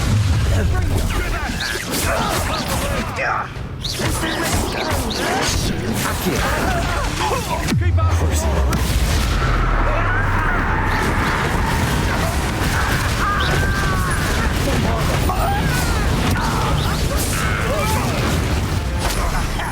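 Bombarda explosion spell cast in Hogwarts Legacy on Nintendo Switch, a dense, loud burst of booming impacts and crashes within continuous combat noise, with characters talking over it.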